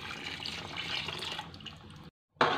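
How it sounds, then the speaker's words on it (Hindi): Chickpea cooking water pours into a hot pan, a steady close splashing and sizzling stream that cuts off abruptly and then resumes briefly. "जो हमारा पानी चनों का था वो हमने इसके अंदर डाल देना है"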